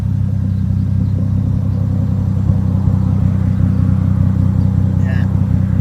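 Lexus IS200 turbo with a 4-inch exhaust pipe, idling with a steady low, continuous rumble, close and constant, with a faint brief squeak near the end.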